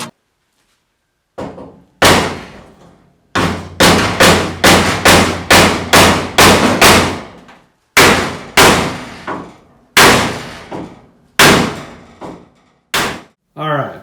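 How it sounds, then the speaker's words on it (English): Heavy metallic hammer blows ring out in irregular bursts on a 1965 Ford Mustang's steel body brace in a garage, some rapid strings of strikes and some single hits, each with a short resonant decay. "I am going to take a minute to hammer on this just a little bit more"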